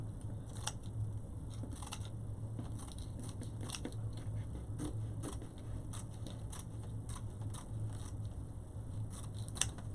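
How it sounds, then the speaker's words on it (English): Scissors snip repeatedly through paper, a series of quiet crisp cuts at an uneven pace over a low background hum. "now we're going to cut it with scissors off the roll."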